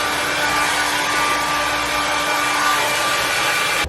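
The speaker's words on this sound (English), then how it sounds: "I'm gonna blow dry my hair" A small hair dryer blows steadily on hair, a loud, close, continuous airy whoosh with a faint motor whine running underneath, unbroken and with no talk.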